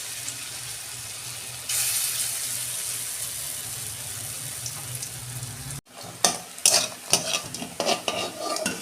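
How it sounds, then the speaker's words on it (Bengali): Split pea (motor dal) fritters frying in hot oil, a steady broadband sizzle that jumps louder a couple of seconds in, then gives way to irregular clattery bursts of stirring and handling near the end. "আমার বড়া ভাজা হয়ে গেছে"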